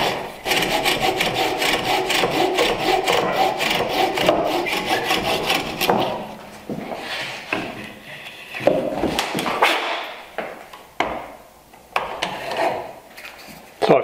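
A miter jack saw cuts a wooden tenon with steady, close, rhythmic rasping strokes for about six seconds, then slows into shorter, scattered strokes and light scraping of wood.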